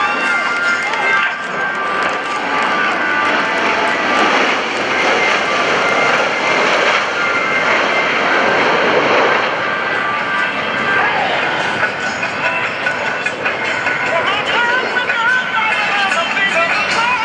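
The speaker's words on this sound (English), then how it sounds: "the Blue Angel echelon parade." US Navy Blue Angels jets roar past in a right echelon parade formation at about 350 mph during the 2015 NAS Oceana airshow, a sustained loud jet rumble with faint crowd noise and an announcer talking under it.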